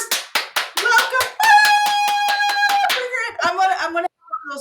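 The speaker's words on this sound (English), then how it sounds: "So that's the manual clap." Bare hands clap manually in a quick, evenly spaced series of sharp, close claps. A voice then sounds over the later claps.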